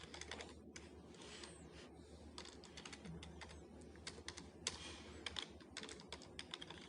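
Steady clatter of computer keyboard keys as C# switch-case code is typed, irregular quick clicks with occasional louder strokes, fairly close and alone without talk.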